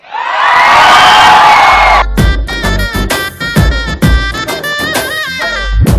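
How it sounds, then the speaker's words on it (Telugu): A loud studio audience on a TV show roars, shouts and cheers for about two seconds, then breaks into rhythmic chanting voices over a pounding beat. "వాడిని దయచేసి గట్టిగా ఓ అరుపుతో పిలుద్దాం"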